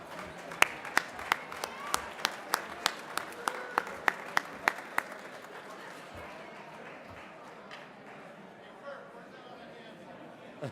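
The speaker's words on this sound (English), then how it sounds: "One more round of applause." Steady, rhythmic clapping from a crowd at a tribute dinner, several hands beating in time, then fading into softer scattered applause and murmuring chatter.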